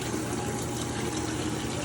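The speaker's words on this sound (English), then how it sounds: "So I'm gonna put water now and show you how it works." Water pours into the tank of a Vicks humidifier in a steady, continuous gush that is close and fairly loud throughout.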